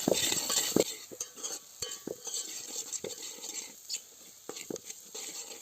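A spoon stirs two spoonfuls of masala spice into jackfruit vegetable in a pan, scraping and clinking against the metal in irregular strokes over a soft sizzle, close and moderately loud.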